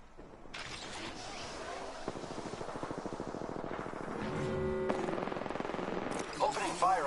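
Automatic gunfire in Apex Legends crackles in fast, rhythmic bursts that build to a dense volley. Mechanical clicks follow, with game voices faintly present.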